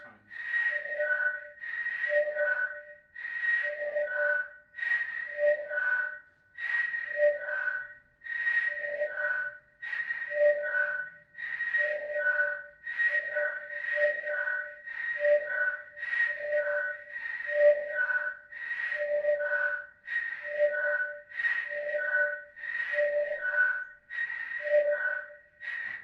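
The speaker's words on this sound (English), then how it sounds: "why don't I just put in some white noise and really bring that whistle out" Synthesized whistle tones from filtered white noise on a Serge Paperface synthesizer pulse rhythmically over breathy noise, repeating short pitched bursts of three tones in a steady pattern, moderately quiet, with no voices.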